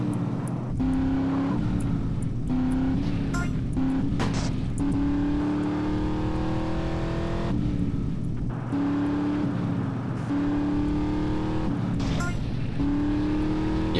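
Racing car engines in the video game GTA San Andreas drone loudly and continuously, rising and falling in pitch as they rev and shift gears, with a few sharp clacks and bumps over the sustained roar.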